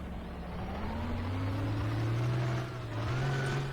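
A tank in Garry's Mod rumbles along with a low droning engine whose pitch slowly rises and dips, steady and moderately loud without talk.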